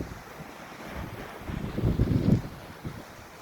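Black Sea waves wash onto Golden Sands beach near Varna, Bulgaria, with wind buffeting the microphone, a soft rolling surge that swells in the middle and ebbs again.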